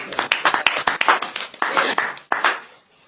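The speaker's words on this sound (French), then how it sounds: "Acclamons très fort." A church congregation claps loudly in a dense, fast, irregular stream of hand claps, close and vigorous, fading out near the end with no clear speech over it.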